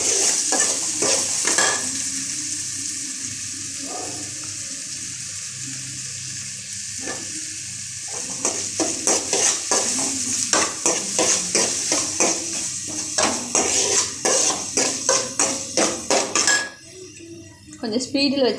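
Onions sautéing in a pan for beans kurma, with a soft continuous sizzle under repeated scraping and clinking strokes of a spoon against the pan, the stirring growing busier and more rhythmic toward the end.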